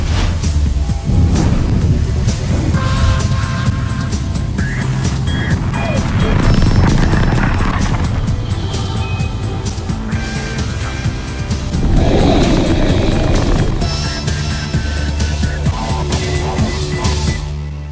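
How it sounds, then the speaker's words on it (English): Falcon 9 rocket lifting off with the PAZ satellite, a loud continuous broadband roar and rumble that holds steady and swells again near the end, with no talk over it. "liftoff of Falcon 9."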